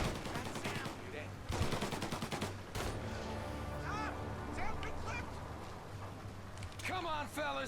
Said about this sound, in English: I hear lots of firing, but I don't know why I hear lots of firing.